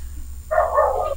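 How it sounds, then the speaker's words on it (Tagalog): Dog barking once, a single drawn-out yelping bark, fairly close and clear over a quiet background hum. "Sino po yung may aso?"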